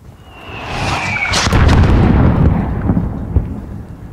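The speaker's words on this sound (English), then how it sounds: "There's still a mortar out there." A deep, rumbling mortar blast in Call of Duty: Modern Warfare, building from a faint whistle into a loud, rolling boom that lingers and slowly fades, with a smaller thud near the end.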